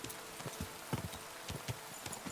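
Horse hooves clip-clop in a medieval open-world game, Kingdom Come Deliverance 2, a steady walking rhythm of about eight fairly close, moderate hoofbeats over a low ambient bed, with no talking.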